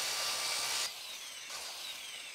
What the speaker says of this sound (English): So the boards I'm going to cut for the lips will be 2 1/2 inches.